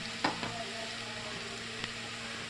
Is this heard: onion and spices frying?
yes